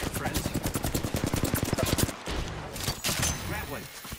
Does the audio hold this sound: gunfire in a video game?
yes